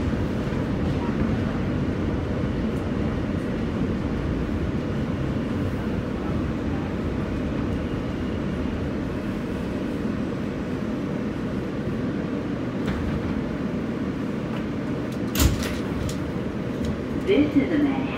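NYC subway W local train riding toward Manhattan from Queens, a steady rumbling roar and rattle from inside the car, with faint voices under it and brief clatters near the end.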